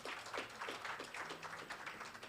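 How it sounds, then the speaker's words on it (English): An audience at a Katiba commemoration gathering applauds, producing a soft, continuous patter of many hands clapping that sounds fairly distant and quiet throughout. "Can we put our hands together for them,"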